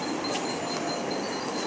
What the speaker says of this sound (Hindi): ट्रेन आई है, ट्रेन हमारी आ गई लोकल, बड़ी रफ्तार में दोस्त।